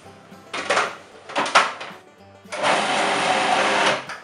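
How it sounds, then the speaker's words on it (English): Blender whirring as roasted carrots are blended into chipotle hummus, two short bursts followed by a longer steady run, close and loud. "transfer them into the mixing bowl and start blending"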